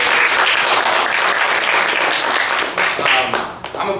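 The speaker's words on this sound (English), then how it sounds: "Big round of applause to Darkhorse for having us." A theater audience claps at a Darkhorse event. The applause is dense and loud, then thins and tapers in the last second with a few scattered claps.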